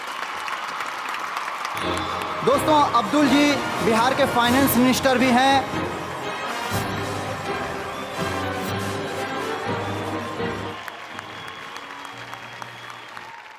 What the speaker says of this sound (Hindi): जोरदार तालियों से स्वागत किया जाए इन लोगों का।